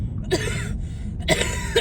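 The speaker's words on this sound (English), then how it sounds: "Don't cough either." Two separate coughs, close and fairly loud, roughly a second apart, with a quiet pause between them and no talking.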